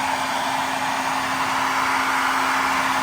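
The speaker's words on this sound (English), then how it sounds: "Bring the hairdryer back and forth." A hairdryer blows on an injured Polish chicken during a bath, giving a steady, close rushing whoosh with a constant motor hum underneath.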